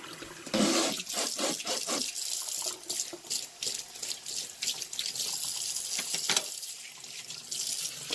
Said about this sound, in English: I'm just going to fill this with cold water.